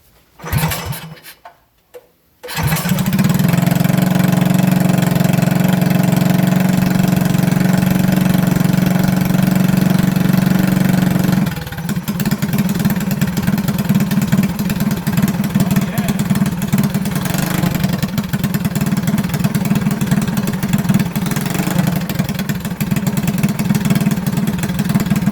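A Predator 212 Hemi engine on a Coleman BT200X minibike with Mikuni carburetor problems starts after a brief sputter, then idles loudly and steadily with a ticking, knocking rhythm, its tone shifting slightly partway through.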